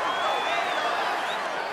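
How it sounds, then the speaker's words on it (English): Crowd applause and cheering in the UFC 5 video game after a grappling exchange, a steady broad wash of clapping and crowd noise throughout. "they can take in the applause because they deserve it after that grappling exchange"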